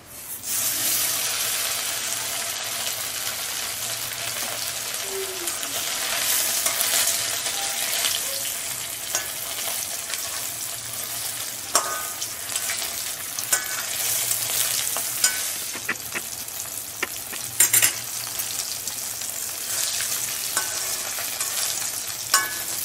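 Parshe fish fries in a pan with a steady, close sizzle and occasional stirring clinks and scrapes, the crackle holding fairly even throughout.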